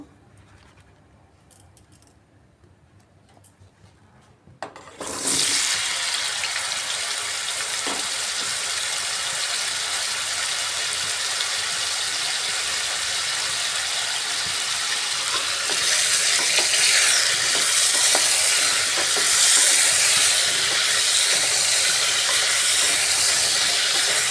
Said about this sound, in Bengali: এবার নুন হলুদ মাখা পটলগুলো ভেজে নেব